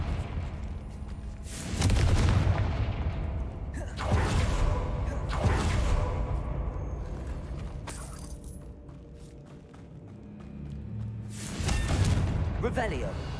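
Confringo spell explosions in the Hogwarts Legacy video game, four booming blasts with whooshing tails spaced a couple of seconds apart, heavy and close, with game sounds between them.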